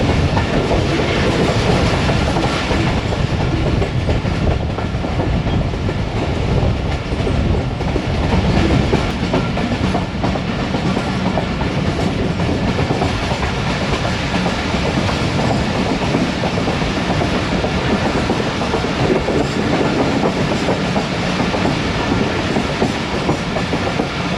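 Rehman Baba Express, pulled by a ZQ-20 locomotive, rolls through Chaklala railway station near Rawalpindi, with a continuous loud, broadband rumble of wheels on rails and steady clickety-clack throughout, with no talking.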